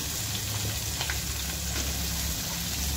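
Thinly sliced onions frying in oil, a continuous loud close sizzle with faint crackles and an occasional stir, no one speaking.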